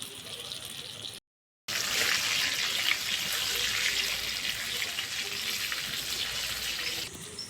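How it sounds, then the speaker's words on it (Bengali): Sliced pointed gourd (potol) fries in oil in a pan, a steady close sizzle that stops briefly near the start before resuming. "আর একটু লাল করে ভাজবো পটল।"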